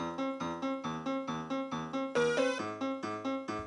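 MIDI file from a Korg M01 on a 3DS, played on a floppy disk boombox with every track, drums included, on the default piano sound: a steady, rhythmic run of repeated piano chords and notes, mid-level and alone.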